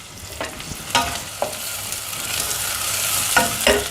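Shallots and garlic fry in sizzling oil while a spoon scrapes and stirs the pan in a few short knocks, close and continuous.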